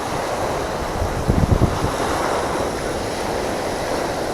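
Strong wind buffets the microphone over a steady roar of sea waves, with a brief thudding burst early on; no voices.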